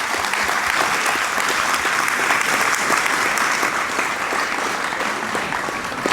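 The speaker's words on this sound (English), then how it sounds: "Let's give them all a round of applause." Sustained audience applause fills a school graduation ceremony hall, dense and steady clapping from a large crowd with no speech over it.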